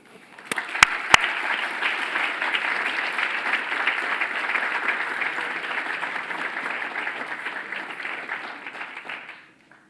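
Audience applause welcoming a speaker at a university conference: a steady wash of clapping from a sizable crowd that swells quickly, holds for several seconds, then tapers off.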